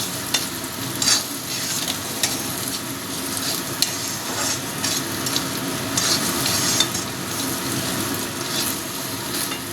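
A frying mixture for lote fish jhuri, shredded Bombay duck cooked in a pan, stirred repeatedly: a steady close sizzle punctuated by regular scraping and tapping spoon strokes, with no talk.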